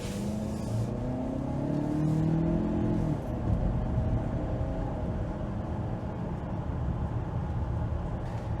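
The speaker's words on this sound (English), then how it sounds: "Okay, so we're gonna check the acceleration right here." A 2022 Lincoln Nautilus Reserve II SUV accelerates, heard from inside the well-insulated cabin as a muffled engine hum rising in pitch for a few seconds before settling into a steady road and tire rumble.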